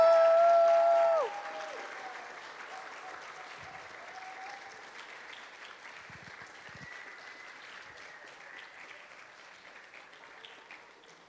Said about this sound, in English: Will the new MSBS class stand for another round of applause?